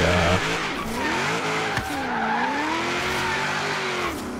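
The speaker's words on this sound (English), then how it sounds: "I just want to get a drifting shot real quick." A car drifting in the Forza Horizon 3 video game, engine note rising and falling as the tires squeal continuously through a long slide, loud and close throughout.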